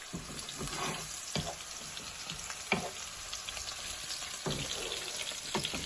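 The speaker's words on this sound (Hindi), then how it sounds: "For the second tadka, you just fry some onions." Onions fry outdoors in oil for a second tadka for brown lentils: a continuous close sizzle broken by several sharp scraping stirs.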